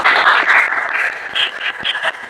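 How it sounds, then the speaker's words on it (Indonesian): Audience applause after a football academy podcast segment, a dense continuous wash of clapping that stays loud throughout and tapers slightly near the end. "Tepuk tangan dulu."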